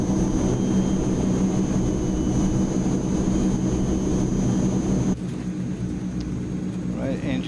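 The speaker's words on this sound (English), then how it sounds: "Right, engines are spooled up." Turboprop engines of a Transall C160 cargo plane in Microsoft Flight Simulator drone steadily at high power, a dense broadband roar that cuts to a lower, quieter hum partway through.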